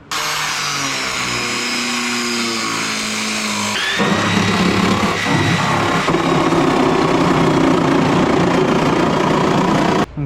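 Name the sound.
cut wheel cutting steel floor of Datsun 240z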